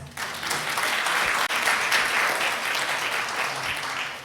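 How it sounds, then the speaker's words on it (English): An audience at a scientific lecture on antiviral antibodies gives the speaker a final round of applause, a dense and even burst of many hands clapping that holds steady throughout. "Give our speaker one last round of applause."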